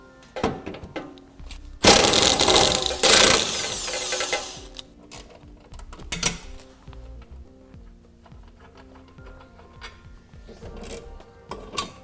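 A 16mm socket wrench ratchets out tie-down bracket bolts during a Curt trailer hitch install on a 2014 Infiniti, with loud rapid clicking bursts early on, then quieter intermittent ratchet clicks and metal knocks.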